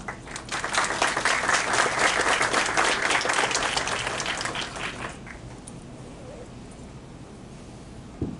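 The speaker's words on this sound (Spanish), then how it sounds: "Un doble aplauso que damos por parte de nuestros distinguidos alumnos y profesores de nuestra facultad." A university faculty audience of students and professors gives a double round of applause for distinguished guests, loud dense clapping that builds, peaks mid-way and then fades out into room quiet.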